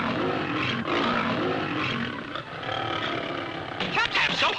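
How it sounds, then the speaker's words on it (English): A cartoon lion in a vintage animated show lets out a loud, sustained roar with a rough, raspy texture, dipping briefly midway before surging again near the end. "I heard you roar so high"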